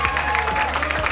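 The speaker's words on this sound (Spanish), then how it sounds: "Aplauso para las chicas de 28." Applause for a girls' team at a school quiz grand final, a dense steady wash of clapping with a murmuring crowd beneath it, continuous through the whole short stretch.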